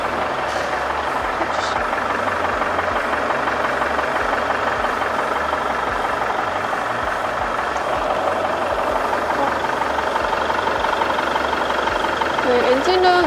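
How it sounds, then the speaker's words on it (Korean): A Land Rover Discovery 5 2.0 SD4 diesel engine idles steadily nearby in its engine bay with an even, low clattering rumble, and a voice speaks briefly over it. "엔진 소리도 일정하고 좋습니다"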